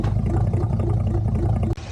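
A Bitter CD's engine revs hard after warming up, a loud, steady low roar that holds for over a second and a half before dropping off abruptly near the end.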